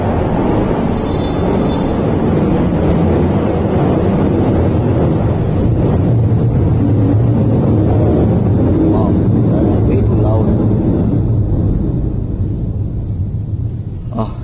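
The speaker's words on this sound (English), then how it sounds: "Sorry for that noise. Usually in my area I don't see this aeroplane sounds." Aeroplane passing overhead, a loud continuous low rumble with wind-like broadband noise, heard alongside someone talking near a Bajaj Dominar 400 motorcycle outdoors.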